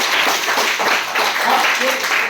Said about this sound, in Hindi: गुड, ताली बजाओ इसके लिए।